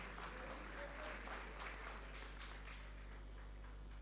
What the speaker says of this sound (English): Come on, round of applause, ladies and gentlemen.